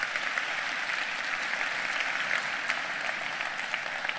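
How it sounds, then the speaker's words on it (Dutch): Sustained audience applause at an evening church gathering, an even, full roar of many hands clapping at close range. "mag ik nog een applaus voor ze"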